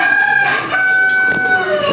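Chickens in a flock with a rooster crowing loudly nearby, a sustained strained call over overlapping clucks and softer crows from other birds in the background.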